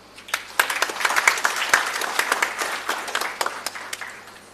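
A conference audience claps in a scattered, uneven burst of many hands, fairly close and moderately loud, lasting about four seconds before thinning out.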